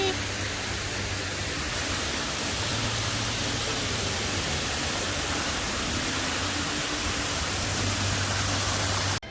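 A waterfall pours in a steady, dense rushing roar that fills the whole clip loudly and evenly, with a faint low hum beneath and no voices.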